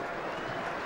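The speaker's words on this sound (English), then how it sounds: "round of applause for Kalamafoni as his evening comes to an end" Rugby crowd in a stadium applauding as injured player Sonny Kalamafoni leaves the field during Gloucester against Leicester, a steady dense wash of clapping filling the whole short moment.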